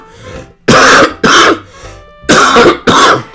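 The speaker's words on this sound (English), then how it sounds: "that's that cough right there" Four loud, harsh coughs in two pairs, close to the microphone, with brief quiet gaps between them.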